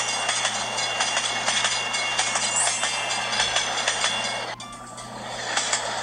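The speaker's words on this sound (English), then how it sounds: "Dude, these trains are going nuts, man, my god." Trains in a railroad-crossing mobile game rumble past with rhythmic clattering and rolling rail noise, a steady busy roar broken by a brief dip near the end, with no talking.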